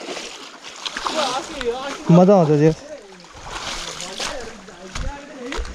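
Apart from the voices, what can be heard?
clear water flowing in an irrigation canal (kulo)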